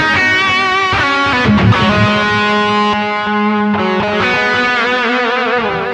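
Electric guitar played with a boost through a Humboldt Simplifier, loud and sustained with distorted, effect-laden soloing notes that bend and ring continuously and up close, with no voices.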